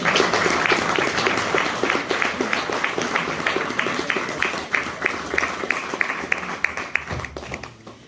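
An audience applauds after a hunters' choir performance, with steady, rhythmic clapping from many hands that gradually thins out and ends with a few final claps.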